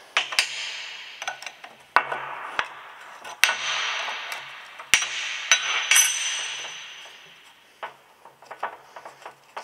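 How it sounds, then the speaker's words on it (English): Float bowls come off the carburetors of a Yamaha Phazer snowmobile: close, irregular metallic clinks, taps and scrapes of tools on metal parts, with short sharp knocks between brief rattling stretches. "We'll start with taking the bowls off the carbs."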